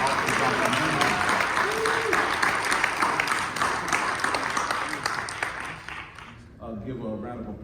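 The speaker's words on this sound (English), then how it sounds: "Let's give Brother Jeremiah another round of applause" An audience applauds a speaker at an event with a panel on stage, a broad, steady clapping from many people with faint voices underneath, thinning out and dropping away toward the end as talk resumes.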